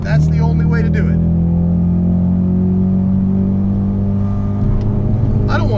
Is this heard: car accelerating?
yes